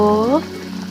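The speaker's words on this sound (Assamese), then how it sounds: "এয়া দেখিছে মোৰ চব্জি পূৰা উতলি আছে, বইল হৈ আছে" Vegetable curry bubbling in a pot, a soft steady sizzle and simmer that settles in after a short tonal chirp at the very start.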